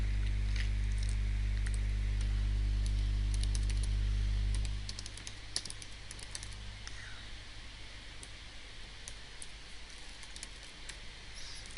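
Keys clatter on a computer keyboard during web page coding, a steady stream of light taps heard close and alone over a low hum that drops away partway through.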